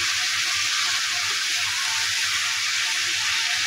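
Washed pointed gourds dropped into hot oil with frying garlic give a steady, loud, close sizzle with a dense crackling hiss that never lets up. No voices are heard.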